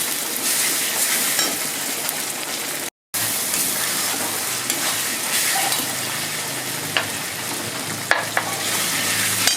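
Spice paste browning in a pan for a thin Bengali mutton curry, a dense steady sizzle with scraping stirs, one abrupt brief cutout near the start, then continuous loud frying alone.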